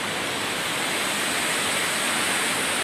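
The Cheeyappara waterfall near Adimali in Idukki roars as a loud, unbroken broadband rush of falling water, steady throughout with no voices.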